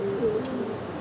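Pigeon cooing during a Cuban pigeon release contest, a low soft warbling coo, close and moderately loud against faint outdoor background.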